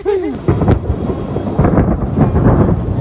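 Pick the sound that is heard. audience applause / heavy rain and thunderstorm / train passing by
heavy rain and thunderstorm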